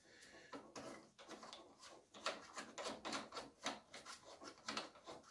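Rapid scraping and rubbing bursts, close and steady, as a hose connector on a Mig 235 MIG welder's central Euro torch connection is screwed tight by hand, with no talk.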